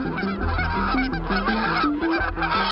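A flock of geese honks repeatedly and loudly near farmland, the overlapping calls forming a dense, continuous chorus without pause.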